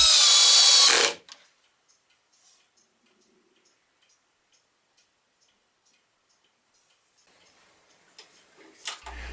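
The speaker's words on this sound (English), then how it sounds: "I'm getting pretty well to the end of drilling holes." A power drill whirs loudly for about a second while drilling holes in wood, then cuts off, leaving near silence with faint ticking and a soft clatter at the end.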